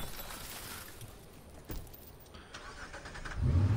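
A car engine in Watch Dogs hums steadily at moderate volume, swelling louder near the end as if revving or starting to pull away.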